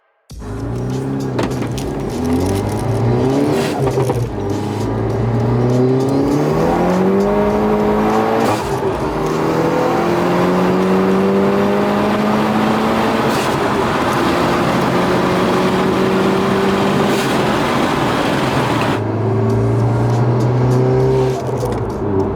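Car engine fitted with an SXTH Element AV6 blowoff valve, revving loudly and repeatedly, pitch climbing and falling through several rev cycles up close, with sharp cutoffs between pulls and no talking.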